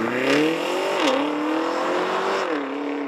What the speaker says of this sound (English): Electric motors launch with instant torque, seamlessly followed by a twin-turbo V8 chaser.